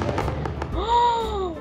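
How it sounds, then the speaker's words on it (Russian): Festival fireworks in the Star Stable Online video game: a crackling burst followed by a bright whistling, whooshing tone that rises and falls, short and close. "Это самый мощный салютик,"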